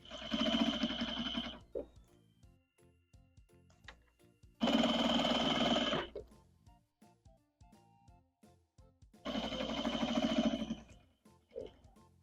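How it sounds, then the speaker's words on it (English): A sewing machine stitching a damaged vintage quilt runs in three loud, steady bursts of rapid motor hum, separated by quieter stretches of handling, clicks and small taps. "After I'm done stitching this into place, I will serge it to clean up the edges."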